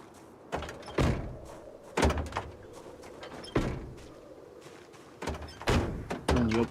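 Car doors in the Project Zomboid video game, opening with sharp thunks and latch clicks at intervals over a steady low engine-like hum, each impact close and fairly loud.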